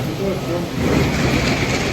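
A passenger train to Düsseldorf in Germany rumbles steadily along the rails, a dense continuous roar of wheels and carriage noise heard from close by, with no clear voices over it.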